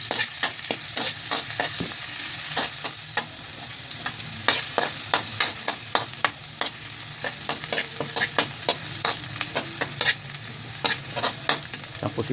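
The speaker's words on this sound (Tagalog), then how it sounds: "gisa na natin ang ating luya" Ginger and garlic sautéing in a pan for a quick breakfast dish, with a steady sizzle and frequent sharp scrapes of a spatula stirring throughout.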